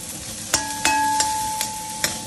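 Garlic, onion and ginger sauté in a pan, a soft steady sizzle broken by several sharp utensil clinks and scrapes against the pan.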